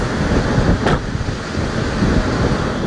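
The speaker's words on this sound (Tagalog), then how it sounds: "Humahagupit ang hangin na may kasamang ulan sa pantalan ng Santa Ana, Cagayan" Strong typhoon wind lashes the seaport of Santa Ana, Cagayan, during Typhoon Dodong, producing a loud, continuous buffeting roar against the microphone with surging gusts and no voices.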